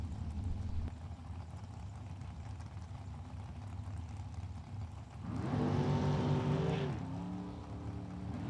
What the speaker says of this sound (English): It's a Race Tech chassis with a Rambler motor.